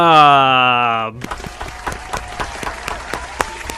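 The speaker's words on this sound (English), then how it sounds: "Studio applause, please" Studio applause on a late-night radio show bursts in after a short sustained tone and carries on as dense, steady clapping from a small crowd until the end.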